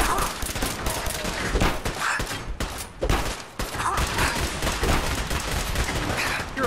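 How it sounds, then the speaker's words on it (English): Gunfire from Fallout 4: dense, overlapping shots and bursts that boom continuously at close range, with a brief lull midway before the firing resumes. "Would you tell your buddy to stop shooting me?"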